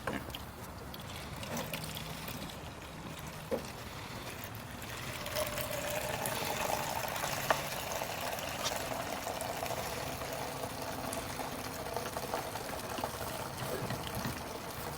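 Metal prep liquid draining and trickling out of a Mazda RX3 fuel tank during restoration, a steady low pouring flow with faint watery splashing and occasional small clinks, no talk.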